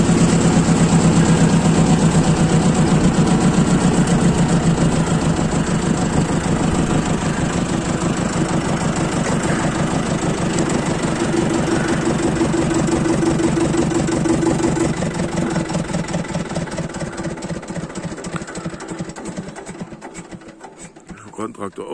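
A tractor engine idles loudly and close by with a steady chugging rumble, then winds down toward the end.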